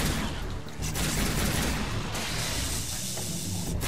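Rapid, dense gunfire bursts from the action video game Onimusha: Dawn of Dreams fill the whole stretch, loud and continuous with short sharp cracks over a booming game soundscape and no talk.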